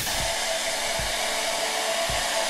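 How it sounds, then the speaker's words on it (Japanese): A hair dryer blows on its strong setting with a steady, loud broadband rush that holds for the whole stretch, with faint low thumps roughly every second and no voices. "ドライヤー。 強いです"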